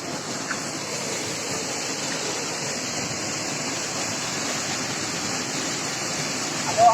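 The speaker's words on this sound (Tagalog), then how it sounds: "Aloha Falls natin. Dito sa Mount 387." Aloha Falls on Mount 387 pours in a continuous, steady broadband roar, close and loud throughout, with no talking over it.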